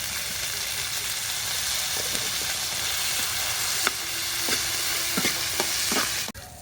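Fish seasoned with salt and turmeric frying in hot oil, a loud continuous sizzle with a few sharp pops and utensil taps near the end.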